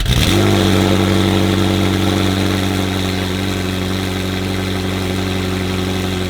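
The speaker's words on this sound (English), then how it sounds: "We're gonna do a cold start, take it outside." A McLaren Senna fitted with a titanium stage 2 exhaust fires up from cold with a sharp bark, then settles into a loud, steady, humming high idle that holds close and unbroken.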